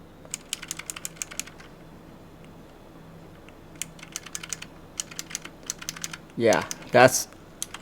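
Clicky Razer purple optical switches on a Razer Huntsman Mini 60% keyboard, typed in scattered quick bursts of sharp clicks at close range, with a brief louder rattle near the end and a voice speaking softly.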